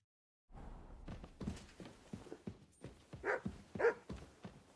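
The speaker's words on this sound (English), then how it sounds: "I hear you, puppy." A puppy in the video game Kingdom Come: Deliverance 2 gives a series of whimpers and small barks in an uneven rhythm, close and fairly soft, growing a little louder toward the end.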